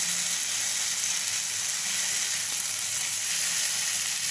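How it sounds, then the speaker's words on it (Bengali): Spiny gourd (kakrol) fries in a pan over high heat while being stirred, producing a continuous, even sizzle close by with no talking. "গ্যাসের আঁচটা বাড়িয়ে অনবরত নেড়ে যেতে হবে, না হলে কিন্তু তল থেকে পুড়ে যেতে পারে"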